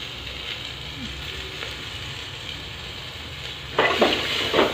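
Green onions with leaves being stirred into tehri in a home-kitchen pan, a soft steady sizzle with scraping stir strokes that grow louder and busier near the end.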